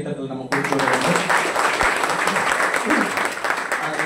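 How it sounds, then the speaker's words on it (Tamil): A crowd at an Ayudha Puja festival breaks into loud, sustained applause for a visiting High Court judge. The dense clapping starts abruptly after a brief quiet moment and continues steadily. "அவர்களுக்கு ஒரு பெரிய கைத்தட்டல் நம்ம கொடுத்து வேண்டும்."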